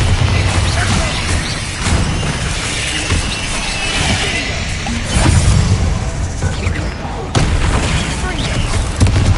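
Bombarda spell explosions going off in the video game Hogwarts Legacy, heavy booming blasts with crashing debris over dense game noise, loud and repeated, with a voice heard in the mix.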